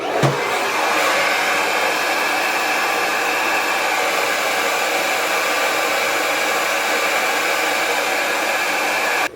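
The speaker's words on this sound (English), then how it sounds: "And then I'm gonna go in with some cold air first to make sure that my wig is dry." A hair dryer blows cold air over a wig, a loud, steady whooshing drone held close for the whole stretch, with a brief click as it starts and again as it stops.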